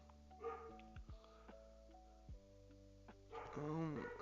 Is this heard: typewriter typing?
no